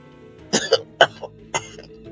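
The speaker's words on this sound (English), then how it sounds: "I felt a coughing fit" A short burst of coughing in a video game, three or four harsh coughs in quick succession, fairly close and with no talking.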